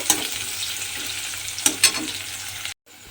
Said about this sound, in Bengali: এইবারে আমি পেঁয়াজটাকে একটু লাল করে প্রথমে ভেজে নেব।